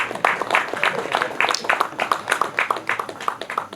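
Audience at a Fort Portal Diocese coffee development policy event clapping for the finance council team, steady dense applause from a moderately sized crowd, fairly close.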